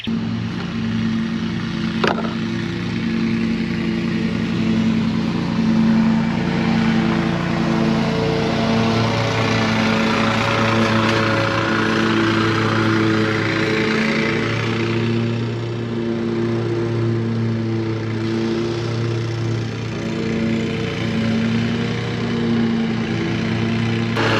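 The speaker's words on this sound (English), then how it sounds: "I'm gonna go ahead and grab the trimmer, trim as best as I can." A string trimmer runs steadily while cutting an overgrown lawn, its engine drone close and continuous with slight pitch wavering and no talk.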